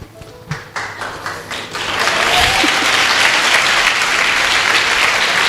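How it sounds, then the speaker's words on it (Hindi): Loud applause from a church congregation swells and holds steady, following a few scattered claps at the start. "पता है पहले ताली विक्टिम्स ही बजाते"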